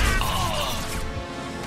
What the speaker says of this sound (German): ich glaube, der explodiert jetzt